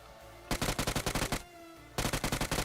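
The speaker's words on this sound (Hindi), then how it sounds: "मैंने यहां पर प्री फायर दिया" Rapid automatic gunfire from an assault rifle in the mobile battle royale game BGMI (PUBG Mobile), two loud bursts of evenly spaced shots separated by a brief pause, with no talk over it.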